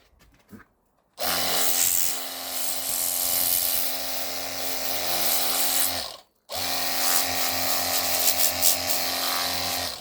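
A battery jet washer sprays Skechers trainers, a loud steady hiss of water that runs for about five seconds, cuts out briefly, then starts again and keeps going with small bursts near the end.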